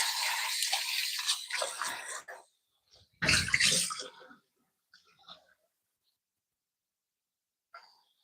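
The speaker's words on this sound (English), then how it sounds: "I'm just gonna soak this potato in water" Tap water runs into a bowl in a home kitchen to soak a potato, a steady close rush that cuts off, then a short splashy burst, followed by faint clinks.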